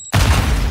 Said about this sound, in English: Semtex out.